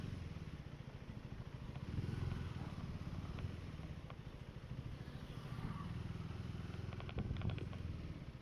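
A KTM Duke 390 motorcycle riding along and shifting gears, its steady engine drone rising and falling through the ride with faint clatter, heard mostly alone.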